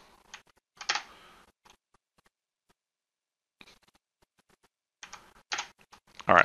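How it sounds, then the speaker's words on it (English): Computer keyboard keys clatter in short bursts, a few quick taps near the start and a denser cluster at the end, separated by quiet gaps, close and moderately loud with no talking. "I'll hit spacebar again"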